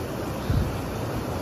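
Mountain stream water rushes steadily at a fishing spot in Surumkhim, Taplejung, a continuous broadband wash with no pauses.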